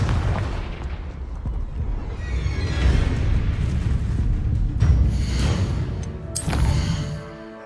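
Spell blasts and explosive booms in Hogwarts Legacy combat, including the Confringo explosive spell, several loud bursts and rumbling impacts layered with game effects and a bright crackle near the end.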